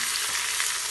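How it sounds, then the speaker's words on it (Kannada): Onion, beans, potato, carrot and peas for a vegetable pulao fry in hot oil, giving a steady, close, loud sizzle that stays even across the short moment. "ಅದೆಲ್ಲ ಹಾಕಿ ಫ್ರೈ ಮಾಡ್ತಾ ಇದ್ದೀನಿ."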